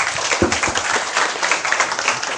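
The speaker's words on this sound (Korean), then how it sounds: "박수 부탁드리겠습니다." Audience applause welcoming a lecturer at a seminar, a continuous close patter of many hands clapping, steady and moderately loud with no speech.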